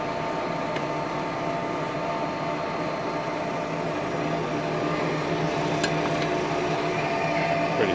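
A Sharp 1540 gap-bed engine lathe running in high gear at 790 RPM while feeding in the cross direction gives a steady mechanical hum and drone, with a few faint metallic ticks and no talk.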